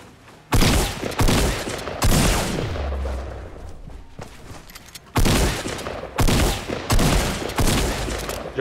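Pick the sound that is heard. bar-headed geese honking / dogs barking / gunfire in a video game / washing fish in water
gunfire in a video game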